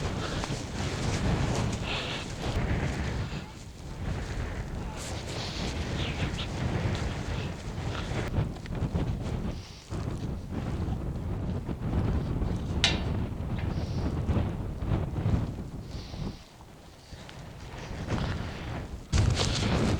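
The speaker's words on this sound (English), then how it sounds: "It's too windy for Beata." Strong wind buffeting a microphone on an exposed fell, heavy low rumbling gusts that surge and dip continuously for twenty seconds, loud and close, with no clear voices.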